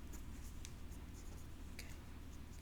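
Quiet scratching and tapping of a marker or chalk drawing graphs on a board, faint and close, with a few sharper strokes over a low background hum.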